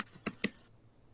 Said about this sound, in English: I have to type this on my character sheet